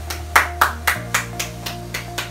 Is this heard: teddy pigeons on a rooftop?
no